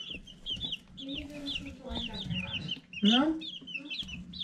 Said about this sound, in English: Do you like the chicks?